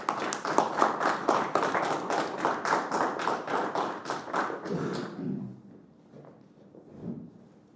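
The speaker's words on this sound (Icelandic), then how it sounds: "gefa hann gott klapp" Applause at an Icelandic sports-personality-of-the-year awards ceremony: rhythmic, fairly close clapping from an audience for about five seconds, then it stops abruptly and a quiet room with faint murmurs follows.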